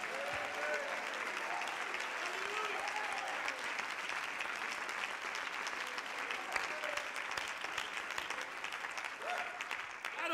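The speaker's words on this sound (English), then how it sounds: "clap your hands and give him praise." Church congregation clapping hands during an evening worship service, a sustained, fairly faint wash of applause lasting the whole stretch with scattered vocal sounds beneath.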